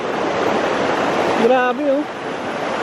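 A river flowing in Masinloc, Zambales, heard as a loud, close, continuous rush of water throughout, with a short spoken exclamation rising over it midway.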